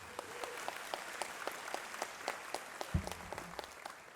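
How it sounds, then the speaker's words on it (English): Graduation audience at a high school commencement gives steady, moderate applause from a crowd, clapping sustained throughout with a brief thump near the end, no voices. "Please give applause for yourself."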